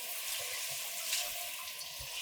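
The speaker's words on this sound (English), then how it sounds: "Just rinse it from top to bottom so that you've got all the glass covered and rinsed with water." Running water rinses a glass surface from top to bottom, a steady close hiss and splatter of flowing water without pause for a couple of seconds.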